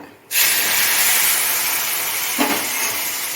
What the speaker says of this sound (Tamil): அந்த கொதிக்க தண்ணியை ஊற்றிக்கலாம்